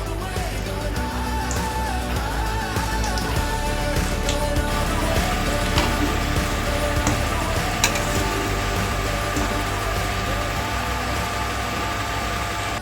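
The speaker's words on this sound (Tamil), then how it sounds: "இப்போ இதை எண்ணெயில் போட்டு பொரிச்சு எடுத்துக்கலாம்." Naeypathiri dough frying in hot oil, a steady dense sizzle with scattered crackles and pops running throughout, close and fairly loud with no talking.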